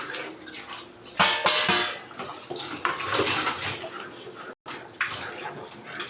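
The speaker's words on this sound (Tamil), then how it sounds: "இது கொதிச்சுக்கிட்டு இருக்கு, எல்லாமே போட்டுடலாம்." Chickpea masala curry boils in a pot, with loud, continuous bubbling and splashing that surges in places and stops once briefly.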